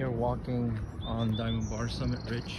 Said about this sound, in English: Listening to the birds sing, as you could hear.